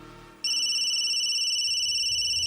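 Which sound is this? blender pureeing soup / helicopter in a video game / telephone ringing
telephone ringing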